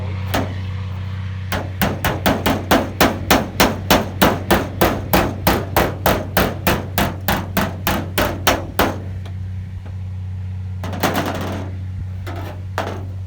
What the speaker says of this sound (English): I'm going to do a hammer off technique, which means I'm hammering not where the dolly is, but off the dolly.